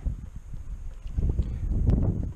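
Wind on a lake buffets a boat out bass fishing, a steady low rumble of gusts with no talk over it.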